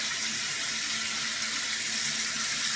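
Water runs steadily from a kitchen faucet into a bowl of cut potatoes and carrots, a constant close hiss and splash with no talking.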